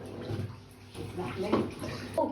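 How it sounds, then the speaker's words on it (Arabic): Water being poured into a sink basin holding a strange creature: a short, splashy, gurgling trickle at close range, with people talking over it. "زودت لها حبه ميه عشان تعيش"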